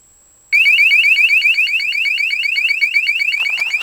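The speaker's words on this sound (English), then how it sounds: "And an alarm system, which you can hear." A camper van's alarm system blares loudly nearby, a rapid repeating electronic warble that starts abruptly and keeps going.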